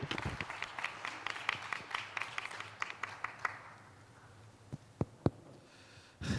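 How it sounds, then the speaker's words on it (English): Audience applause for a presenter at a human values forum session on inclusive, resilient cities, fairly quiet and thinning out over several seconds into a few scattered claps. "Please give him a big round of applause."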